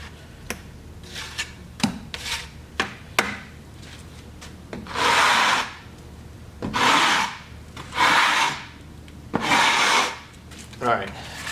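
Excess Tadelakt lime plaster being scraped back into a pail, short sharp taps followed by several longer rasping scrapes spaced a second or two apart, close by.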